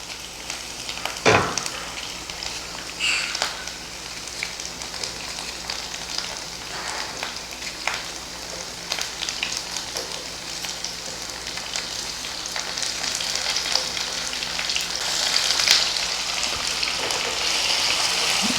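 Finely chopped tomato frying in a pan of browned paste, a steady close sizzle with soft crackles and occasional stirring scrapes, growing slightly louder toward the end, no talking.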